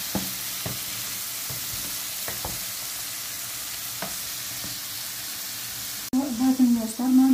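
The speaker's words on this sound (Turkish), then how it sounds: "Mantarlarımız sulanıp suyunu çekene kadar kavuralım." Sliced mushrooms sauté in oil in a pan for a mushroom bulgur pilaf, giving a steady sizzle with scattered stirring clicks. A voice speaks briefly over the frying near the end.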